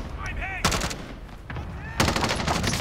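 Automatic gunfire in the Warzone video game on Rebirth Island, two loud sharp bursts of rapid shots cutting in after brief lulls, close and harsh, with faint voice-like tones between.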